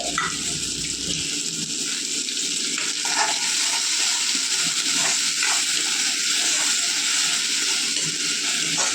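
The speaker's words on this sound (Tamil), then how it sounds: "கொஞ்சமாக தண்ணி ஊற்றிக்கணும் நிறையலாம் ஊற்றக்கூடாது" Water poured into a hot pan of capsicum chutney sets off a loud, steady hiss and sizzle with bubbling crackles that continues throughout.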